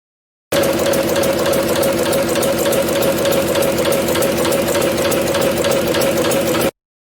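A crankshaft and cam driven reciprocating mechanism model runs at a steady fast rhythm, a loud continuous mechanical whir with rapid regular knocking that starts and stops abruptly.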